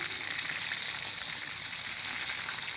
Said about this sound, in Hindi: इसको फ्राई जो है बिल्कुल मीडियम फ्लेम पे करेंगे